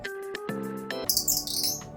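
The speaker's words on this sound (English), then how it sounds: "Not only does it call birds, it also annoys your family." An electronic bird call device chirps indoors, with repeated synthetic tweets and trills in short bursts that grow busier and brighter toward the end, loud and close with no talking.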